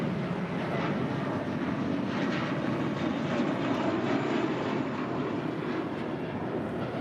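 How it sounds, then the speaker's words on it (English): A JetBlue Airbus A321 departs LAX, heard as a steady, fairly distant broadband engine roar that holds level throughout with no talking. "This is JetBlue Airways 2885 departing to Miami, Florida on an A321."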